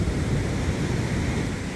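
Steady roar of surf breaking on a sandy beach, a continuous low rumble with wind noise across the whole stretch and no distinct individual wave crashes.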